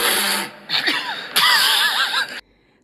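A human voice imitates kookaburras sneezing, giving three short, bursting snorts that are loud and close, the later ones warbling up and down before cutting off into silence.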